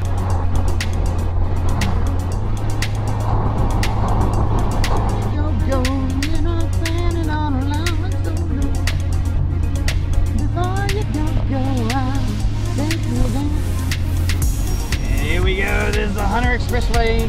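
A car driving from Cessnock toward an expressway, a loud steady low engine and road drone heard from inside, with music and voices over it.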